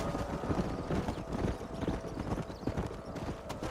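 Horse hooves clip-clop steadily in Red Dead Redemption gameplay, a continuous trotting rhythm at moderate volume with low background noise throughout.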